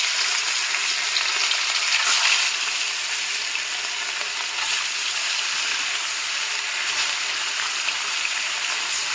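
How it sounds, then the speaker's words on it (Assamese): Fish coated in salt and turmeric frying in hot oil in a wok, a steady, dense sizzle that holds evenly close by for the whole stretch with no voices. "মাছখিনি ভাজি আছোঁ"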